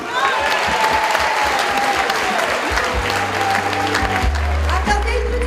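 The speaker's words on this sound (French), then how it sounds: "on va s'applaudir et on va aller boire un petit coup" Loud, sustained applause from a crowd at the closing night of an international country music festival in Santa Susanna, continuous clapping throughout with music swelling underneath in the second half.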